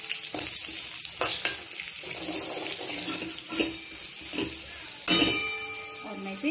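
Taro root (arbi) curry cooks in a pan as turmeric and salt go in, giving a steady sizzle with scraping stir strokes and a few sharp clinks, close and fairly loud, with no talk.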